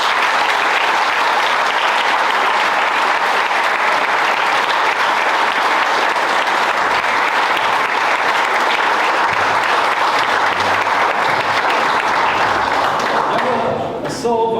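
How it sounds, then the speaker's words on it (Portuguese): A large audience claps continuously for the musicians after a musical performance, a dense, loud, even wash of applause that holds throughout and drops away right at the end. "mas as palmas são para eles."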